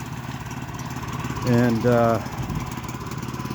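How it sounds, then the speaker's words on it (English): An old man's tractor engine chugs steadily in the Korean countryside with a continuous low idling drone, while someone talks briefly over it midway. "I'd like to sample that tractor, but I'm not sure the old man would be down with it"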